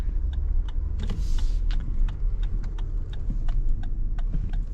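A 2022 Lexus LX600 F Sport SUV driving in Sport Plus mode, heard from inside as a steady low engine and road hum with regular light ticking clicks and a brief whoosh, no speech.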